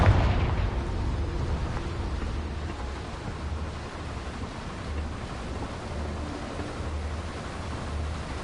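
A Confringo fire spell explodes in the video game Hogwarts Legacy, a loud booming blast up front that decays into a rumbling, crackling tail.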